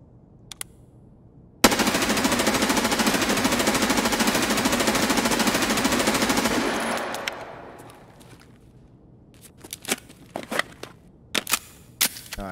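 Unsuppressed automatic gunfire in the video game Escape From Tarkov, a loud continuous rapid burst lasting about five seconds that fades away, followed by scattered clicks and small bangs.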